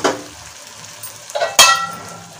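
Mushroom masala being stirred in a pan, a few close scraping clatters of a spoon against metal over a soft sizzle, with one sharp louder knock.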